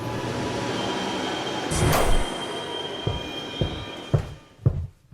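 A subway train squeals and rumbles into a station, with a loud screech of wheels building then fading, followed by a few sharp clanks as it slows.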